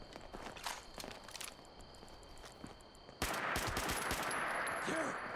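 Rapid gunfire from a weapon in a video game, a burst of sharp repeated shots near and loud, followed by a denser sustained stretch of firing and noisy action.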